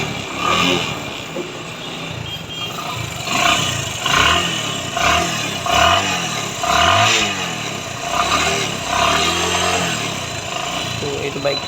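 A Bajaj Discover 135 motorcycle engine with a sound problem after a CDI bypass idles loudly up close, rising and falling in repeated revs with a rough, uneven note.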